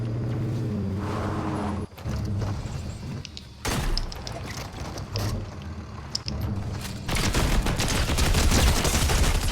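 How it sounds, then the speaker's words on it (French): A light machine gun fires in the video game Fortnite, with rapid bursts of automatic gunfire and booms broken by short pauses, growing denser and louder toward the end. "La mitrailleuse légère, elle est bien, elle fait des dégâts, mais elle spamme pas autant que ce que je pensais."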